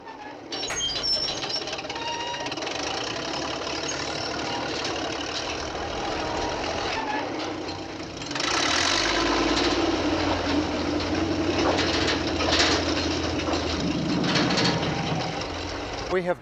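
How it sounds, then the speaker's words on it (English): A drilling rig extracts soil from beneath the Leaning Tower of Pisa, giving a steady mechanical drone and rattle that grows louder and rougher partway through, with no pauses. "The drill is about 5 meters below ground level."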